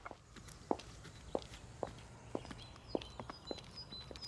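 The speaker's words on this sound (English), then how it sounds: "I hear the footsteps of people walking past me on the footpath" Footsteps of people walking past on a footpath, a steady series of distinct, moderately close heel strikes about every half second, faint against quiet outdoor ambience with distant birdsong.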